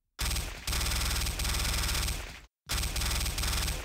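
Sustained automatic gunfire rattles from the video game Renegade: a long, loud, rapid burst, a brief pause, then another burst starting up, with no talk over it.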